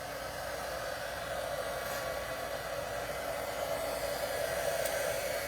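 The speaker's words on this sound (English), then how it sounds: "I'm gonna turn on my heat tool here." A craft heat tool blowing hot air over an image, a steady close whooshing drone of a hair-dryer-like fan running without pause, no talk.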